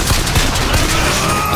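Rapid gunfire bursts loudly and close in a Bioshock Infinite firefight, a dense rattle of shots over about a second and a half, with no speech on top.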